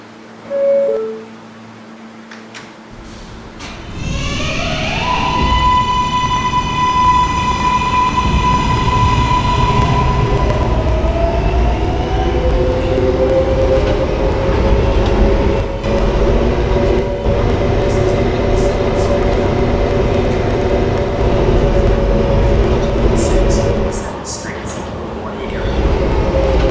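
A K subway train on a metro line rides with a steady, loud rumble of wheels and car noise, starting after a brief quiet moment and a rising tonal whine as it gets underway, continuing throughout; no talk.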